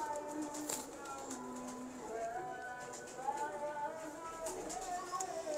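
A blue pigeon cooing softly, low repeated coos among other pigeons, with a voice talking over them and a few faint clicks, all fairly quiet.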